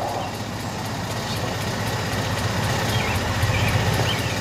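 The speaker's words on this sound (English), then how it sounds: "It's idling a little low" A 2002 Acura RSX Type-S sits idling a little low after startup, with its idle air control valve deleted, giving a steady, even engine hum with a faint rough pulse throughout.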